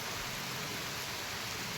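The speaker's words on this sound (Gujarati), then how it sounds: "ત્યારે વરસાદ ચાલુ છે" Steady rain falls continuously around a pilgrimage site, a dense even hiss with no voices and no breaks.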